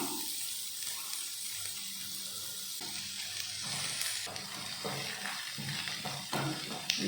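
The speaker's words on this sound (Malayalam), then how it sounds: "ഇനി ഇതിലേക്ക് നമുക്ക് നമ്മൾ കട്ട് ചെയ്ത് വെച്ച ഒനിയൻസ് ചേർത്ത് കൊടുക്കാം" Coconut pieces and chopped onions frying together in a pan for a chicken roast, a dense continuous sizzle with occasional stirring scrapes, close and steady throughout.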